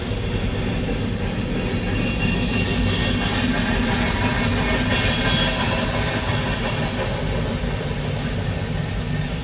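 Empty railroad freight and tank cars roll past close by, a loud constant rumble and rattle of wheels on track that holds steady throughout.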